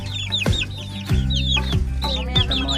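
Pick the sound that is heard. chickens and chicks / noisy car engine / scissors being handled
chickens and chicks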